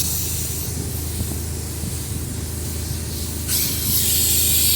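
Spray foam gun applying insulation on a construction job gives a steady close hiss over low rumble, and the hiss brightens and grows louder in the final second.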